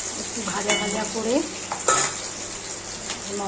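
Whole spices sizzle in hot oil in a pan: cinnamon, cardamom, cloves, two black peppercorns, bay leaf and dried red chilli. A continuous crackle sounds close by, with a few sharp scraping stirs of a utensil.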